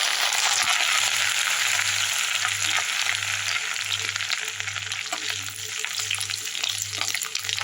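Ginger, green chilli and curry leaves sautéing in hot oil for a Hyderabad Majestic chicken crackle and sizzle loudly and steadily, easing slightly later on, over a low pulsing hum, with no voices.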